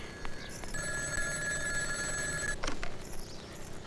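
A telephone rings with a bright, sustained electronic tone for a couple of seconds, then cuts off, followed by faint rustling in a quiet room.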